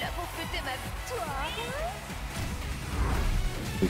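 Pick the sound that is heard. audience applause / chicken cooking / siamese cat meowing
siamese cat meowing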